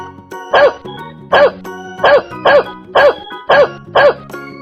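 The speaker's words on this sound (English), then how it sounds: "Dog." A dog barks seven times in a steady, evenly spaced rhythm, loud and close, with no other sounds.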